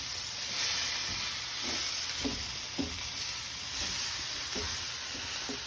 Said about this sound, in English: And we're just going to stir that up.